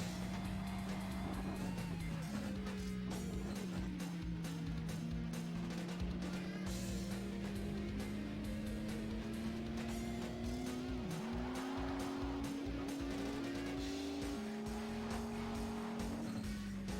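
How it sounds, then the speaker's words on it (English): Car engine droning continuously in the N64 racing game World Driver Championship, its pitch rising and falling through gear changes, with brief tire squeals over a steady loud mix. "Car sounds so much closer than it actually is."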